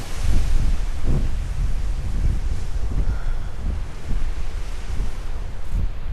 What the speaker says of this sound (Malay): oh, ni dah pantai dah. Pantai Sakom.